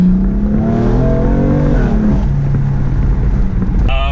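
A BMW M4 on Federal ST-1 tires drives along, heard from inside with a steady engine drone whose pitch rises and falls as it accelerates, plus some wind buffeting.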